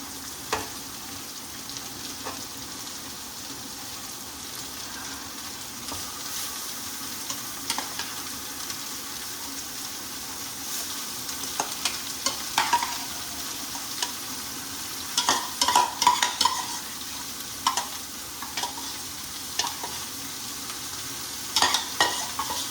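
Chicken, about 1.5 kilos, frying in a pan with a steady low sizzle while a utensil stirs it, scraping and clattering in scattered bursts that grow busier toward the end; no voices.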